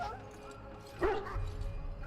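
A sick dog in Dragon Age: Origins gives one short, close yelp that trails into a whimper, midway through quiet background sound, with speech nearby.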